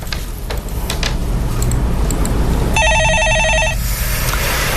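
A telephone rings for a call during a stock market phone-in broadcast, one clear electronic ring burst lasting about a second, loud and close, following a stretch of faint background noise.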